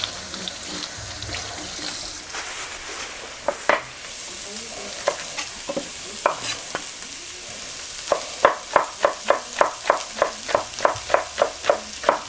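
Onions and carrots fry and sizzle in a pan while a beef and shrimp stir-fry is cooked, with a steady sizzle under repeated scraping stirs that turn into a quick, regular rhythm toward the end.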